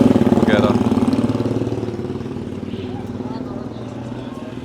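A motorcycle engine idles steadily at a Kenyan market, a low continuous rumble that holds close by and fades slightly over the moment, with a voice briefly heard near the start.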